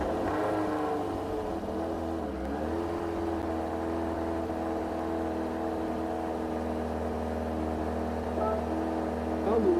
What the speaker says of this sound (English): Listen to this engine.